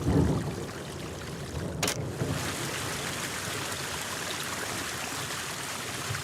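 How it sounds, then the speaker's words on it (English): An ordinary fountain in the video game Locust City, a steady broadband splashing and rushing of water heard close and continuous, with one brief sharper burst early on and no talking. "while Kuno just hears an ordinary fountain"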